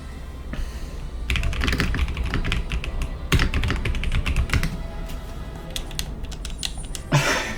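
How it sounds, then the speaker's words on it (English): Fast, steady typing on a mechanical keyboard fitted with yellow banana switches, close and clattery with dense key clicks that run on without pause. "that's red switches and this one here is the yellow, which is banana switches"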